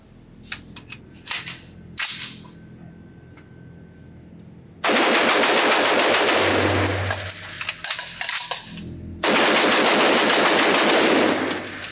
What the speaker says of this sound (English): So I'm really excited to see how fast I can shoot this gun